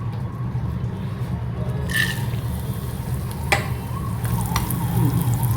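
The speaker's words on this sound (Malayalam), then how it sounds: "ഇത് റൈസിൻ കറുത്ത മുന്തിരിങ്ങ, അത് നമുക്കൊന്ന് എണ്ണയ്ക്കകത്തിട്ടൊന്ന് ഫ്രൈ ചെയ്തെടുക്കാം" Black raisins frying in hot oil in a pan, a steady soft sizzle and bubbling throughout, with a few faint clinks and stirring sounds over it, no talking.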